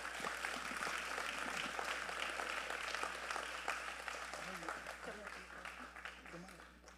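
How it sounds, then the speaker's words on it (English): Audience at a community celebration gives a round of applause for a departing board member, moderate clapping that tapers off toward the end, with voices murmuring and talking underneath. "Please give her a round of applause"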